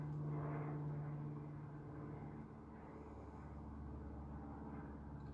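An airplane flies overhead as a faint, distant low drone that holds steady and eases slightly over a few seconds.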